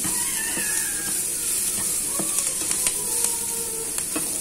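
Onion sizzling steadily in a pan of olive oil, a dense continuous hiss with small pops and occasional stirring scrapes, close and fairly loud with no voices.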